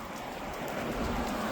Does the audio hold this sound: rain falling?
yes